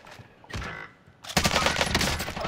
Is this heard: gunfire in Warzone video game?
yes